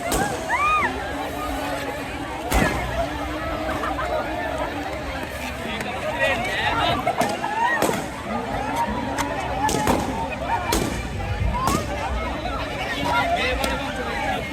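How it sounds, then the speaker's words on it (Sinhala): Balloons burst during a Sinhala and Tamil New Year game at a university, with several sharp, loud pops spaced a few seconds apart over constant crowd chatter and voices. "ඔන්න දැන් ලෑස්ති වෙන්නේ guys බැලුම් පුපුරවන්න"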